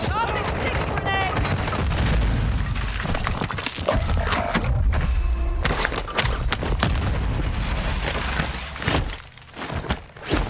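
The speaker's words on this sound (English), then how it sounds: "Tossing stick grenade!" Stick grenade explosion in Warzone 2 amid a busy firefight: heavy booms and cracking bursts layered with rapid gunfire, loud and close, with game voices talking over the combat.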